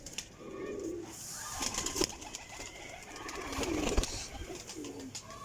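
Sialkoti pigeons coo nearby in soft, repeated throaty phrases that overlap, set against a light background hiss.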